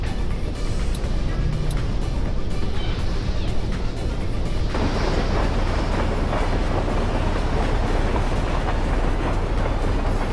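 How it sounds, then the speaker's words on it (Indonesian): A train rolls past a railway crossing in a bus simulator game, a loud, continuous rumble with rhythmic clickety-clack of wheels on rails, heavy and steady throughout, with no talking. "kereta api udah lewat"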